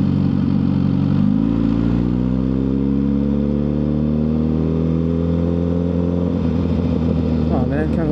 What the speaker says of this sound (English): I kind of wish I had a quieter bike